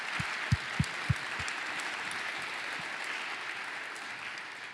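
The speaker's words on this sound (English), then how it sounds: "how about we give ourselves a round of applause for that" A seated crowd at a business meeting applauds in a soft, even wash of clapping that holds steady, with a few low thumps near the start.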